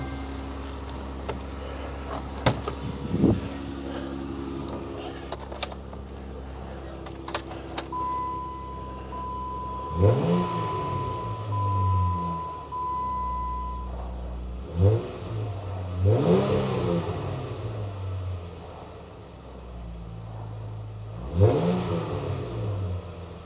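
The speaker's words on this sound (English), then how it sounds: "Let's give it a rev, see what happens." A Jeep JKU fitted with a Red Rock exhaust idles with a low rumble, then gets several sharp throttle blips that rise and fall in deep revs, spaced a few seconds apart, heard from inside the vehicle with some key jingling early on.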